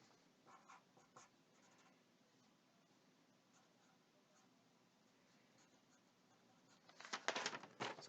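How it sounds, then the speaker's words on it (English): Faint pen-on-paper scratching writes out words during a math lesson, with scattered brief strokes and a louder burst of writing near the end, no talk. "I'm going to write those words out just so you can see them."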